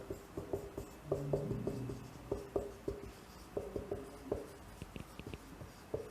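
Writing on a board during a Class 8 maths lesson on additive and multiplicative inverses, with short scratchy strokes in irregular bursts and brief pauses between words, close and fairly quiet.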